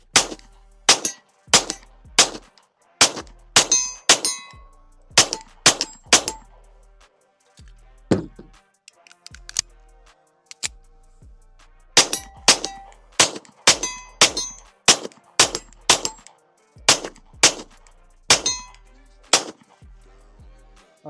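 Girsan MC 14T pistol shots ringing off steel targets, a long run of loud, close reports in quick bursts, each followed by a bright metallic clang, with short pauses between strings.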